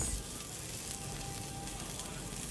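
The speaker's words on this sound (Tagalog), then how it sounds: "Pag medyo brown na yung bawang natin, isunod natin ang sibuyas." Chopped onion goes into browned garlic in hot oil for native chicken tinola, giving a steady, dense sizzle of frying that stays even and close throughout with no talking.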